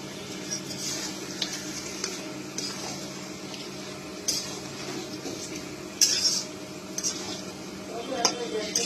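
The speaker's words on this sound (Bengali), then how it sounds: "তারপর এটা ভালো করে একটু কষিয়ে নিতে হবে।" Chicken with spices being sautéed in a pan, with stirring and scraping clinks of a utensil against the pan over a soft cooking background, brief sharper knocks recurring throughout.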